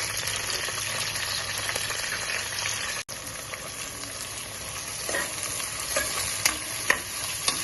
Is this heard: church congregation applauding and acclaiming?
no